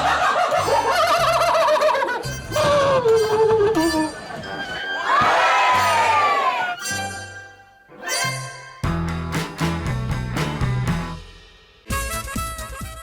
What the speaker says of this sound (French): le dindon a vraiment tout pour plaire, même son cri inimitable